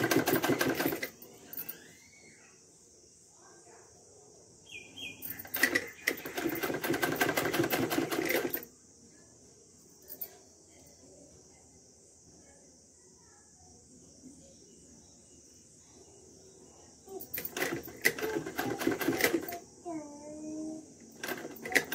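Sewing machine stitching a small summer dress for a Laddu Gopal idol, running in several dense rattling bursts between long pauses, close and fairly loud, with quiet talk in the gaps.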